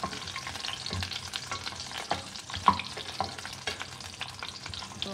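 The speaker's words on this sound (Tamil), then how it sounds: "போட்டுட்டு இதை வந்து நம்ம கொஞ்சம் நேரம் அப்படி ஃப்ரை பண்ணி எடுத்துக்கலாம்." Eggplant frying in oil in a kadai for a Tamil ennai kathirikai dish, with a steady dense sizzle and occasional stirring scrapes, close and continuous with no talk.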